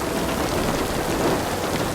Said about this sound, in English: rain starts falling in the city